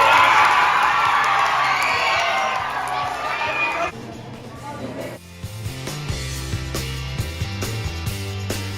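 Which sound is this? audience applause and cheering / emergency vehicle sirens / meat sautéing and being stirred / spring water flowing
audience applause and cheering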